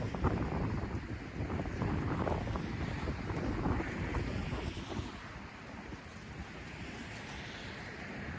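Strong gusting wind outdoors on a cold day, a loud continuous roar buffeting the microphone, easing slightly partway through but never letting up.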